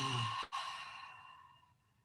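A person lets out a deep, slow exhale during a seated breathing exercise, starting as a voiced "ah" and fading into a soft, breathy release over about two seconds, close and quiet.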